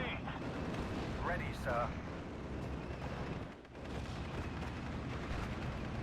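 Mortar rounds being fired in Steel Division: Normandy 44, a World War II game, as muffled dull booms sit in a dense, continuous battle rumble while a voice briefly answers.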